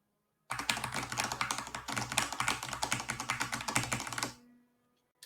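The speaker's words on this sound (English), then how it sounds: "So you might have heard a lot of keyboard smashing there." Frantic keyboard mashing while a code is entered during a Tunic speedrun: a fast, dense burst of clattering keystrokes that runs for about four seconds and then stops abruptly.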